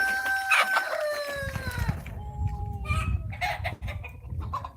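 Naked neck chickens call nearby in a free-range village flock: a drawn-out crowing cry, then a run of quick, scratchy clucks against farmyard noise.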